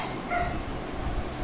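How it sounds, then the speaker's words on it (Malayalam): A Yorkshire terrier at home makes brief, high yipping and whimpering sounds, close and moderately loud over a low background rumble, lasting just over a second. "നമ്മുടെ യോർക്ഷയർ ടെറിയർ ആണ് ഇവിടെ ഉള്ളത്."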